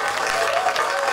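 Sustained applause from a crowd at a Mid-Autumn Festival park opening ceremony in Longsheng village, with even, continuous clapping close by and no pause.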